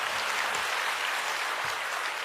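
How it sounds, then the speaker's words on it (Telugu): An audience applauds at a Janasena party meeting, a dense, even wash of clapping heard at moderate distance for a couple of seconds. "చప్పట్లు కొట్టచ్చు పర్లేదు."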